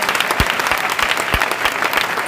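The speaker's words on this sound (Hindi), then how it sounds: "जोरदार जोरदार समझ कर ताली बजा" Audience at an evening Christian convention clapping hands, a dense burst of applause with a few louder, evenly spaced claps punching through, close and full.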